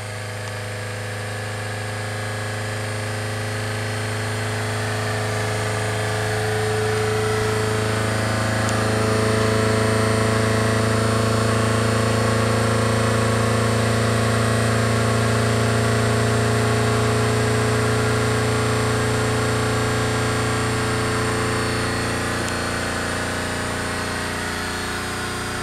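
A four-cylinder Ford Model A engine runs with a steady humming drone. Its pitch climbs gradually as it speeds up, and it grows louder toward the middle before easing slightly.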